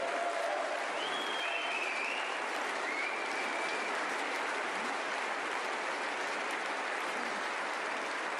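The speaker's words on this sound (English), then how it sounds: "they're going to applaud for a while when they've stopped" An audience applauding at the close of the 2023 European Masters snooker final, a sustained, even wash of clapping that carries on throughout, with a few faint voices above it.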